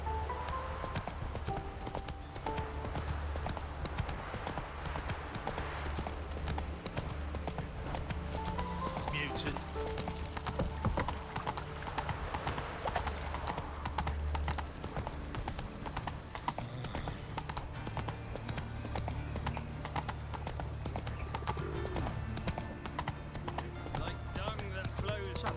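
Horse hooves galloping in The Witcher 3, a continuous rapid clip-clop rhythm held at a steady level for about 25 seconds, with occasional whinnies and game sounds around it.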